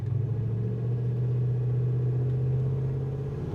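A 1970 Chevrolet Blazer K5 4x4 restomod idles steadily up close, its engine giving a deep, even rumble with a smooth burble and no revving, continuous and loud throughout.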